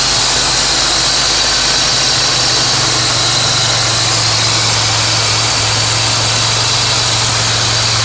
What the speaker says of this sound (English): So the car's running, everything's smooth with the belts.